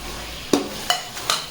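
Yogurt-marinated chicken being stirred into masala in a pan for chicken biryani, with three separate scraping stirs and a light sizzle, close and fairly quiet with no talk.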